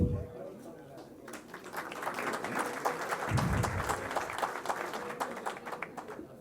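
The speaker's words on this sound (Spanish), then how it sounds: "para quienes pido un fuerte aplauso" Audience applause for visiting Rotarians at a Rotary Club gathering in Buenos Aires, a sustained crowd of clapping hands filling the room steadily for several seconds with dense, even texture.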